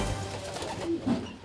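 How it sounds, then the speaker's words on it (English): Pigeons coo in a couple of soft, low, brief calls over a noisy outdoor background. "Quiet in the back, you birds."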